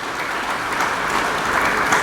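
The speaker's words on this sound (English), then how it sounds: "We should give them a round of applause." An audience at a presidential event on Africa's digital workforce applauds, a dense, steady wash of clapping from many hands that holds evenly and swells slightly near the end.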